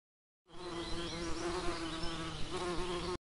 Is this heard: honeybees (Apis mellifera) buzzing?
yes